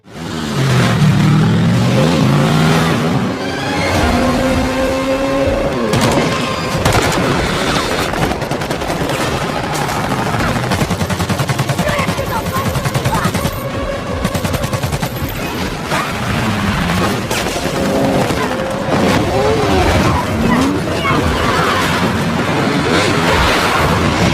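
A film car chase plays loud and unbroken from start to finish, with engine roar, crashes and gunfire-like bursts packed together under a music score, and no voices.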